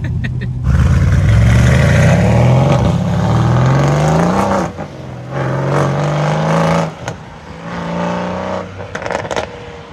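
A Stage 2 tuned Mercedes C63 engine revs loud and close, climbing steadily through a long sustained pull, then dropping back and flaring again in several shorter bursts with crackling overrun between them.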